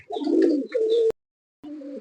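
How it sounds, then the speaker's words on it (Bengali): Batera running pigeons coo up close in two loud, throaty bursts, a pause of silence, then another shorter coo, with each rolling call rising and falling. "দেখেন খুব সুন্দর কোয়ালিটির কবুতর"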